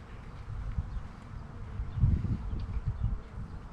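Honey bees hum steadily during a hive inspection, a soft, close buzzing that swells briefly midway and stays low and continuous throughout.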